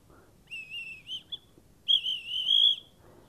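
An antique bird-call whistle is blown in two clear, high warbling bursts, the second longer and louder, with short chirps between and a quiet room behind.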